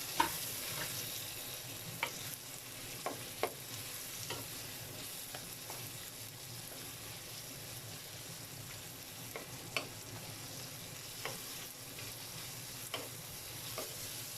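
Pork barbecue skewers sizzle and fry steadily in a hot pan, a dense continuous crackle with occasional sharp pops and spatters, close and alone with no voices.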